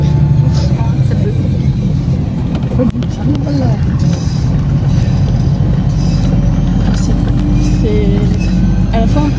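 A city bus drives through busy Chongqing traffic, a steady low engine and road rumble filling the whole stretch, with voices faintly beneath.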